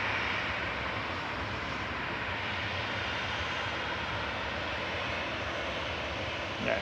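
A Ryanair jet departs Manchester Airport bound for Limoges, its engines a steady, broad roar that holds at an even level throughout, heard from a distance with no voices.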